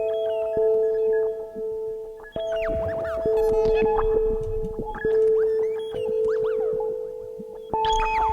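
A Qu-Bit Data Bender synthesizer patch plays sustained electronic tones that shift pitch in steps, with sweeping glides and echoing delay repeats trailing behind each note.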